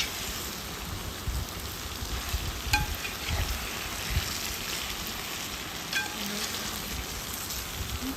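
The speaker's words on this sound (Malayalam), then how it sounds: "ഇനി അതിലോട്ട് നമ്മളെ പൊരിച്ച് വെച്ച ചിക്കൻ ഇട്ട് കൊടുക്കാം ഇനി ഇതും നല്ലപോലെ ഒന്ന് മിക്സ് ചെയ്തെടുക്കാം" Fried chicken is stirred into onion masala in a pan for wedding-style chicken biryani, a loud continuous sizzle with scraping stir strokes and occasional clinks, close by with no voices.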